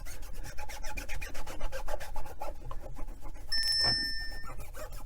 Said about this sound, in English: Just get a microfiber cloth there. Let's see if we can get some of this little bit of dirt off.